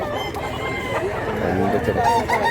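A one-year-old stag rooster crowing and clucking close by over a busy, loud background of other fowl and people talking.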